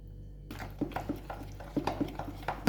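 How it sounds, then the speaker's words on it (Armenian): A spoon stirs a turkey breast mixture in a bowl after 30 grams of vegetable oil goes in, giving a series of soft, fairly regular scrapes and light clinks close by, with no talk. "խառնենք, ավելացնում եմ 30 գրամ բուսայուղ"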